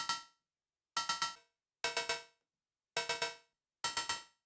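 Synthesized metal hit sounds from the Dialekt app on iOS play as five evenly spaced bursts, each a quick cluster of bright clanging strikes that ring briefly and stop, separated by silence.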